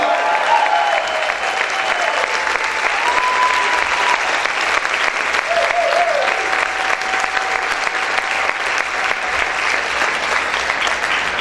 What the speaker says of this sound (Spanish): ¿Cuántos pueden gritar y aplaudir fuerte al Señor?